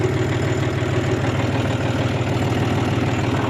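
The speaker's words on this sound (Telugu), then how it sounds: "కొంచెం వార్మింగ్ పెట్టిన ఇంజన్ చాలా రోజులు అయింది కదా పక్కకు పెట్టి" A farm vehicle's engine that has not been run in many days idles to warm up, giving a steady, loud, close chugging rumble with an even rhythmic knock and no pauses.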